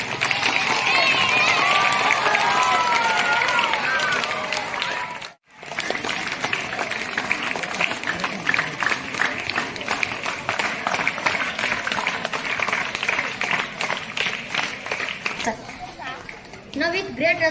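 A crowd at a school Teachers Day celebration claps continuously with cheers and voices mixed in; a brief drop around five seconds, then steady applause resumes and carries on to the end.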